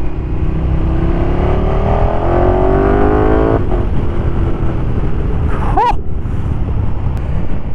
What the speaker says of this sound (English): Austin Racing have got the best sounding pipes for this particular bike